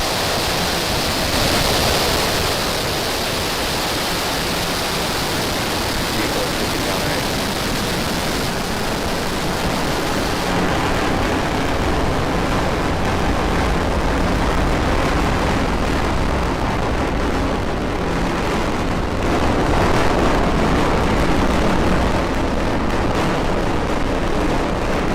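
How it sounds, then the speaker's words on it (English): Falcon 9 rocket engines roar at a Starlink liftoff, loud and continuous with a dense rumbling crackle that barely changes, and no voices over it. "Ignition. Liftoff of Falcon 9 and Starlink 8."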